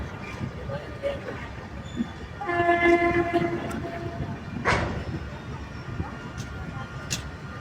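The Gour Express, a night train, rumbles steadily along with a sustained horn tone sounding for a couple of seconds midway, over continuous rail noise and faint voices nearby.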